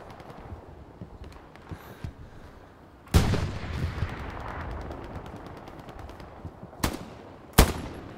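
Gunfire in the Hell Let Loose war game: a sudden loud burst of shots around three seconds in, followed by sustained rattling fire and two more sharp reports near the end, heard alone without talk.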